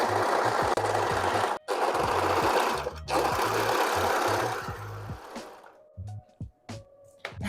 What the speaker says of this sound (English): this serger was pretty much dancing on the table while I was using it